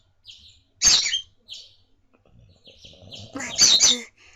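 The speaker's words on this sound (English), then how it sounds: "This bird, really just like, it doesn't matter, man. He'll chirp and chirp and chirp and chirp and chirp." Bird chirps in the visual novel Da Capo 2: bright, high tweets come in short bursts, with two louder clusters of rapid chirping against an otherwise quiet background.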